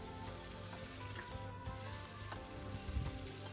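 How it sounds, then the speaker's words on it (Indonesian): Chicken pieces sauté over medium heat in a pan, giving a faint, steady sizzle with soft scraping and stirring noises throughout and no talk. "Sekarang ayamnya ini akan saya tumis sebentar."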